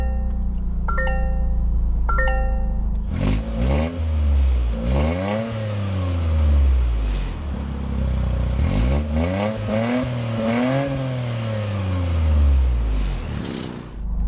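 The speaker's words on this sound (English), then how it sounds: "inside the 2025 GR Corolla, keep my foot on the clutch, we can go ahead and fire it up" A 2025 Toyota GR Corolla hatchback with a manual clutch cranks briefly and fires up, then is revved again and again. Each rev climbs sharply and falls back, loud and close from inside the cabin.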